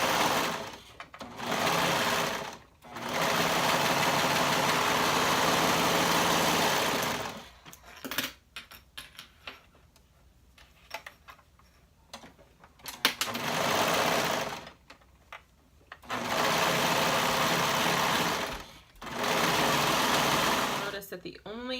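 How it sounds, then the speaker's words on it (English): A sewing machine stitches the side seams of a tank bodice with a half-inch seam allowance, running in several long, steady bursts with short pauses between them and a quieter stretch in the middle. "You'll sew those side seams up with a 1/2 inch seam allowance."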